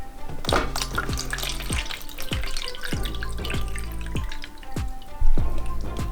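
Water is poured from a container into a big tub to make a bath for a toy. The gurgling glugs and splashy drips come in a steady rhythm, close by.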